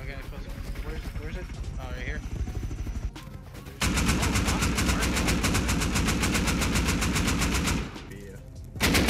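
Explosive bullets fired in Rust as rapid, loud machine-gun-style bursts, a long continuous volley in the middle with a short burst at the end, while players talk over the earlier part.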